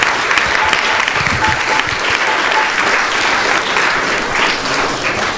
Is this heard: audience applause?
yes